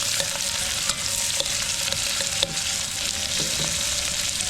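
Onions and garlic brown in a pan at a camp cooking setup, giving a constant dense sizzle with a few soft clicks of a utensil, close and loud, no voices.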